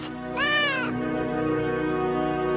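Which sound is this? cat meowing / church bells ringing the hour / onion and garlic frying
cat meowing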